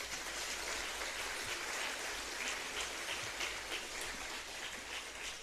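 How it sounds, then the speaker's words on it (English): Steady, dense applause from a large audience at a graduation ceremony for business studies graduates, a continuous even wash of many hands clapping that holds at a constant level with no voices over it. "Please give them all a round of applause"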